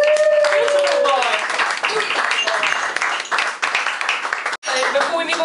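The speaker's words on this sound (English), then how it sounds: "Round of applause for Sean" Audience applause and clapping for a performer at an open mic, loud and sustained, thinning briefly near the end before resuming, with a voice speaking over it.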